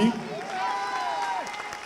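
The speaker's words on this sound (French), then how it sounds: "vous pouvez l'applaudir très fort aussi" Audience at a country music festival concert in Évreux applauding, a broad wash of clapping and crowd noise under a voice speaking steadily over it.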